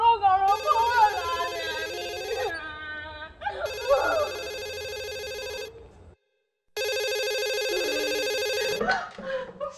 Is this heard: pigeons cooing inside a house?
no